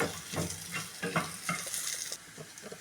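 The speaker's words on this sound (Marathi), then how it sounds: "मिरसांग भाजल्या" Chillies roasting in a pan for a GSB-style dish, with soft continuous frying and sizzling, intermittent stirring scrapes, and no talking.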